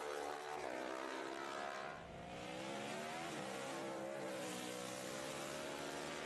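Supertwin race motorcycles at the Isle of Man TT roar loudly and continuously past, the engine note rising and shifting with a brief dip as a bike passes close by, with no talk over it.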